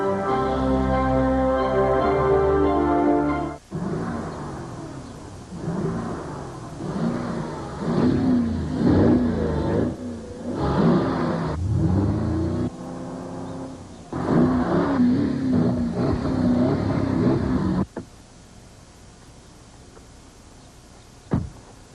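A 450-horsepower Porsche Cayenne Turbo engine in a television commercial: a steady engine tone, then a string of sharp, loud revving bursts rising and falling, before fading to near-quiet at the end.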